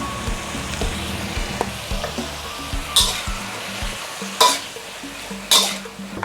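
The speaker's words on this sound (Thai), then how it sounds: "ใส่น้ำลงไปนิดนึงค่ะ คนส่วนผสมให้เข้ากันนะคะ" A sauce of oyster sauce, soy sauce, sugar, seasoning powder, fish sauce and a splash of water is stirred in a pan, making a soft sizzle with scraping strokes and three sharp utensil clinks against the pan.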